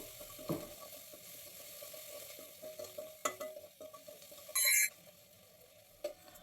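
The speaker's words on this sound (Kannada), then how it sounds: "ಈರುಳ್ಳಿ ಇದೆಲ್ಲ ಅರ್ಧ ಫ್ರೈ ಆದರೆ ಸಾಕು" Chopped onions frying in a pan give a steady low sizzle, with scattered scraping and clinking taps as a spatula stirs them, plus one short louder burst of sizzle or clatter near the end.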